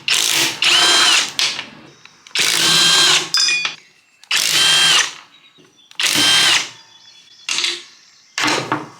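A right-angle impact wrench hammers at bolts on a John Deere 60-inch mid-mount mower gearbox, loud close bursts of rattling impacts about a second or two long, repeated six times with short pauses between.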